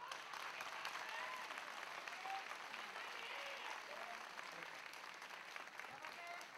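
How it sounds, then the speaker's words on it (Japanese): An audience applauds continuously at a 2010 mixed martial arts main event in Japan, a dense, even clatter of many hands heard from a distance and holding steady throughout, with an announcer's voice faintly over it. "今一度盛大な拍手をお願いいたします"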